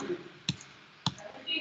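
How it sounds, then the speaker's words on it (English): A computer mouse button clicks three times at roughly half-second intervals, sharp and close, with faint background noise between the clicks. "I'm clicking so many times."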